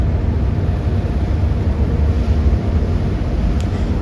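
A ship's engine rumbles low and steady while the vessel berths in port, shifting slightly back and forth to adjust position, under a constant broad wash of wind and water noise.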